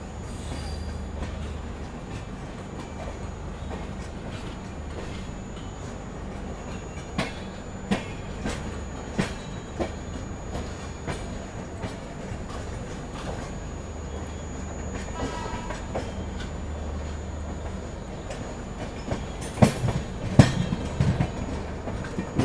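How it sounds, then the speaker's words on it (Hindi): The Vijayawada Jan Shatabdi Express pulls into Chennai Central station with a steady rail rumble, squealing wheels and scattered metallic clicks and clanks. Close and continuous, louder bursts come near the end, with no talking. "उधर अराइवल हो रहा है चेन्नई सेंट्रल विजयवाड़ा जन शताब्दी एक्सप्रेस का"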